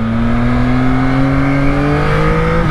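Yamaha MT-09 2021 motorcycle engine accelerating, a loud steady rising drone that climbs smoothly in pitch throughout, heard close with no talk.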